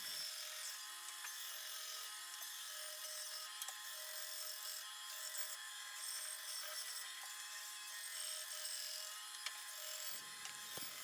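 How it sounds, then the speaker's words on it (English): A bandsaw cuts a squared wooden bowl blank into a rough round, a steady high-pitched whine and rasp of blade through wood running continuously at close range, dropping off briefly near the end. "I'll take it over to the bandsaw to make it"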